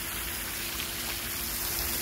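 Water sprays from a PVC pipe sprinkler and splashes into a swimming pool, a continuous, even, rain-like hiss heard up close for the full stretch.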